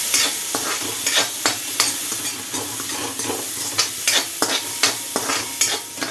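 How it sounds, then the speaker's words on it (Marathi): Green peas and field beans stirred in a hot frying pan, a steady loud sizzle with repeated scraping strokes of the spoon at a regular pace, close by and without talk. "आणि आता ह्याच्यामध्ये हे ग्रीन पीस आणि पावटा घालायचा आहे तो सुद्धा छान मिक्स करायचा आहे"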